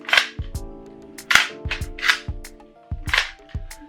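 Slow, irregular sharp pops with mechanical clacks between them, like an airsoft gas blowback M249 machine gun with a steel bolt carrier and piston cycling sluggishly, close by with no talking.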